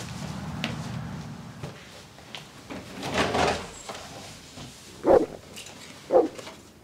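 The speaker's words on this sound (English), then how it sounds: "Wait. There's a dog?" Guard dog barking behind a door in a building: two sharp, fairly loud barks about a second apart, preceded by faint shuffling and door-like thumps.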